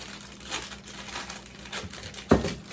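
Crinkling plastic packaging as a package of almond bark is opened, with soft rustles and crackles nearby and one sharper tear or snap near the end.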